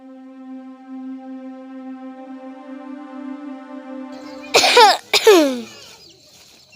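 A person coughs twice in quick, harsh bursts up close, following a steady sustained hum.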